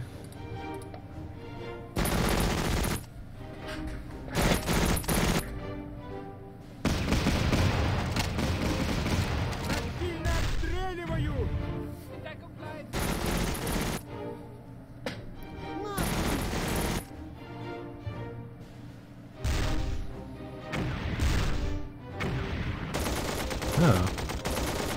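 Vehicles firing in the World War II strategy game Battle Academy 2: loud, sustained bursts of machine-gun fire and booming shots that come in repeated waves with short gaps between them.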